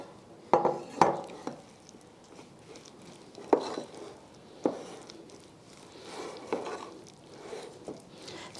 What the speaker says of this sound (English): Then I'm going to mix in the onion and the broccoli.